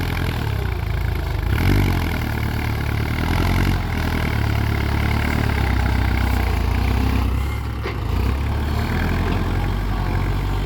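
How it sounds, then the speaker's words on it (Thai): A six-wheel truck drives along a rural village road, its diesel engine droning steadily and loudly throughout with slight shifts in pitch and no voices. "รถหกล้อรถไหลวิ่งสบายเลยครับ"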